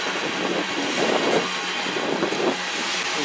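A CN freight train led by locomotives CN 3161 and CN 3074 on the Strathroy Subdivision approaches slowly, giving a steady mid-distance rumble and engine drone that swells slightly in two waves, with no talking.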